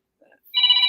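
A telephone rings in a studio, a bright electronic trill that starts abruptly after a faint murmur and holds steady and loud to the end.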